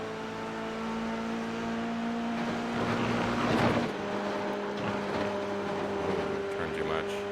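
Steady engine drone with a tonal whine from a car lapping a race track during a timed coaching session, the pitch swelling briefly midway as it accelerates, with speech likely present.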